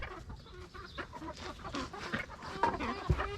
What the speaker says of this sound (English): 4 roosters.